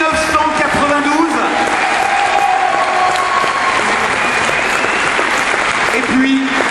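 Ceremony audience at the 2009 centenary of la Jeune Garde in Eloyes applauding a trophy recipient, a loud, sustained round of clapping with a voice speaking over it.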